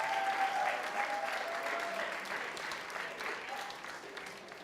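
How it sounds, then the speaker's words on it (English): An audience at a TEDx talk breaks into warm applause, dense clapping that starts strong and gradually tapers off over a few seconds. "a huge round of applause."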